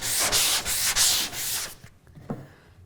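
A palm sander smoothing a wooden media cabinet panel, producing a loud, close, steady gritty hiss in pulsing strokes that cuts off abruptly near the end, followed by a few faint knocks.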